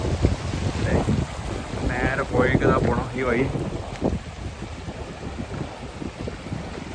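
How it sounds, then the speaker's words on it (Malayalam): A clear mountain stream near Chithkul village rushes steadily downhill, a broad, continuous wash of water mixed with wind buffeting, while people briefly speak over it. "മലന്റെ മേലേന്ന് വരുന്ന വെള്ളം"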